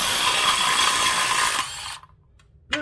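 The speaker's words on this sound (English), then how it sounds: "There, DCF 901 impact wrench. Does it work?" A DeWalt DCF 901 brushless impact wrench hammers in a dense rapid rattle for about a second and a half, then stops abruptly, leaving near silence before a brief clank at the end.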